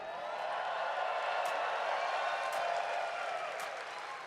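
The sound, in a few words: arena crowd applauding victorious FlyQuest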